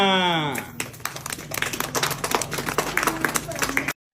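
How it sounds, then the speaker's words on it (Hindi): Audience clapping breaks out after a sung or recited verse, dense and fairly close for several seconds under light voices before cutting off abruptly. "तालियां।"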